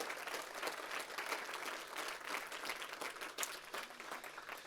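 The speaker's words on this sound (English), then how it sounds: "Please give her a round of applause." Audience applause at a film festival talk, a steady crackle of many hands clapping that continues throughout, fairly faint and distant in a large hall.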